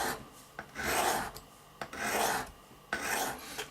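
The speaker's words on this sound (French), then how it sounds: "toujours dans le même sens, voilà, pour aiguiser la lame." Travel knife blade being sharpened on a sharpener, with three slow, rasping strokes in steady rhythm, each a close, harsh scraping rub separated by brief pauses.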